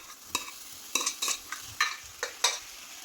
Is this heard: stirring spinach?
yes